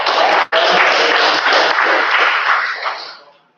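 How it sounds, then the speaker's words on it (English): A classroom audience at a school robotics final presentation bursts into loud, dense applause that holds steady for a few seconds and then tapers off. "Give a round of applause"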